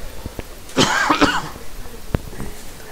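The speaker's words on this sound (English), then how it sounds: "Had a cough." A person coughs up close, a short throaty burst with a bit of throat clearing, set among light clicks and faint background noise.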